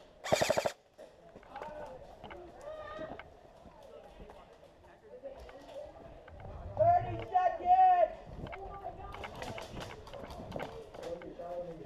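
Airsoft guns fire during an attack-and-defend fort game, with a burst of sharp rapid clicks at the start and scattered pops later, mixed with voices talking and footsteps.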